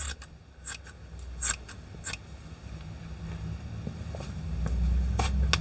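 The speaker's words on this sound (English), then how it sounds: "you can just snip all this off" Scissors snipping yarn into loose fibre, a handful of crisp, sharp cuts close by at irregular intervals over a low steady background hum.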